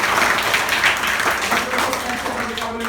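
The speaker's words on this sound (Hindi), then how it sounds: "ताली बजाओ जोरदार।" Schoolchildren clap loudly together at a composite school in Dubhawan, Azamgarh, during a good-touch-bad-touch awareness session; thick, continuous applause with a voice faintly audible beneath it.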